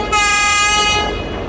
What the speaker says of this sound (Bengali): একেবারে চিকন সুরে মনে হচ্ছে যে হর্ন বাজায় কুয়াকাটা 2